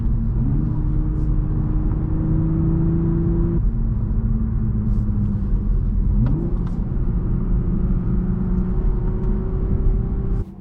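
Manual Toyota Supra engine droning steadily while driving, with two quick upward rev blips as it shifts and rev-matches, each settling into a sustained engine tone under road rumble.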